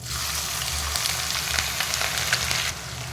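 Cumin seeds with ginger and green chilli paste fry in hot oil for a potato bhaji, giving a steady, close hiss and crackle throughout.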